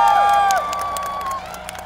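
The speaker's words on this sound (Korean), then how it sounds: "박수 한번 부탁드립니다." A fan-club crowd at a castle-town festival in Seosan cheers and claps loudly at first, then the noise settles into a lower, steady hubbub over the short stretch.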